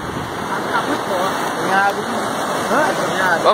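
A rain-swollen river in the Bahia backcountry rushes steadily in the rain, a continuous broadband roar close by, with a voice talking faintly over it now and then.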